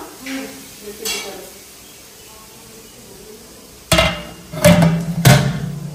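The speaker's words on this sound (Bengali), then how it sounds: "কাজু, কিশমিশ আর ভেজিটেবলস গুলো ভেজে নিচ্ছে" Cashews, raisins and vegetables fry in a pan, a soft sizzle under sharp metallic clatters and scrapes of a spoon against the pan, several loud knocks clustered near the end.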